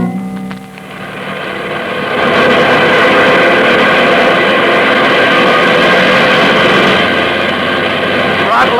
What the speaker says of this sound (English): Plane's all ready for a takeoff, Martin.